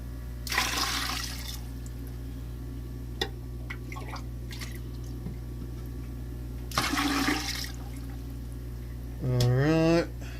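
Water is poured into a 40-gallon breeder aquarium over moss in two separate splashy bursts, the second shorter, between quiet stretches with a steady low hum and a voice near the end.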